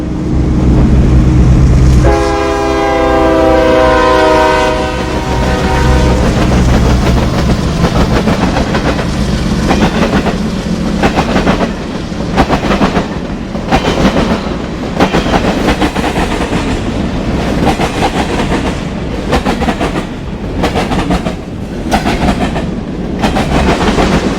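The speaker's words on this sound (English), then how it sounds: "CSX train Q008 heads east on the Indianapolis line" CSX hot intermodal freight Q008 rolls east on the Indianapolis line in Ohio, a loud horn blast at the start giving way to a steady roar and rhythmic clatter of railcars passing close by.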